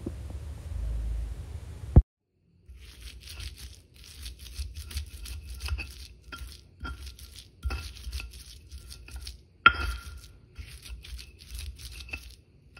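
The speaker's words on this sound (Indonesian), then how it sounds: "Semua bahan ini kita ulek, kita haluskan" Shallots, garlic and roasted candlenuts being ground in a stone mortar, with intermittent scraping, gritty grinding strokes and sharp knocks of the pestle against stone, separated by short pauses, close up and with no talking.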